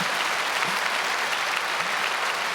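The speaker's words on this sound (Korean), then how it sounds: "박수 치세요. 박수 치세요." A church congregation applauds steadily, a dense, even wash of many hands clapping at once that fills the space without pause, with no voices standing out.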